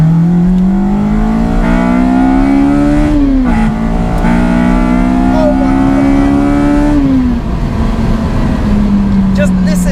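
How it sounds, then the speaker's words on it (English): Honda EP3 Civic Type R tuned to 270bhp without turbo or supercharger, with a Grupp M intake drawing air from atop the bonnet and a Toda exhaust, revving loudly in rising sweeps that dip at each gear change, with a voice speaking briefly over it. "Just listen to that intake sound from the Grupp M, scooping air from the top of the bonnet"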